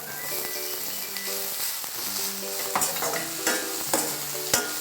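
Cabbage and grated carrot stir-fry in a hot pan with a steady, close sizzle, punctuated by sharp clinks and scrapes of a spatula stirring the vegetables.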